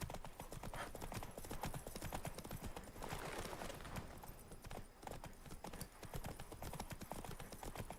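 Horse Roach's hooves clip-clop steadily in Witcher 3, a continuous rhythmic trotting close by, with faint game ambience and a brief quieter dip near the middle.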